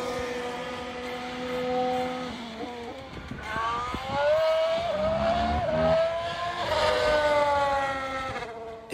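High-pitched Formula 1 1.6-litre hybrid turbo V6 engines scream past, several cars in quick succession with rising and falling whine as they accelerate and shift, no voices.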